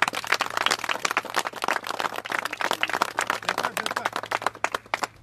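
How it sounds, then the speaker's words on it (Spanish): A funeral crowd gives a farewell round of applause, dense irregular claps from many hands, moderately loud and sustained throughout with no clear speech. "los despedimos con un fuerte aplauso"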